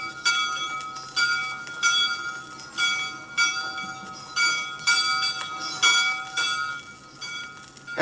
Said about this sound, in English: The Clinton Inn and the traditional dinner bell that stands outside.